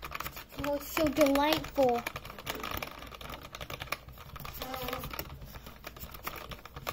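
Typing on a new computer keyboard, with steady fast clicking running throughout at moderate loudness, and a high-pitched voice speaking over the start and again briefly later.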